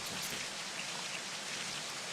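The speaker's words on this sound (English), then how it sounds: "And we have rain again for warm-up, of course." Rain in a racing video game during a touring car warm-up, a steady dense hiss of falling rain and droplets, fairly faint and continuous, with no talk.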